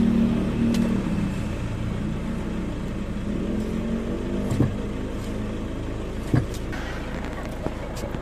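A Toyota Innova engine being started and left idling in a workshop during a brake pedal check, a steady low rumble throughout with a few brief clicks and knocks on top, no talk.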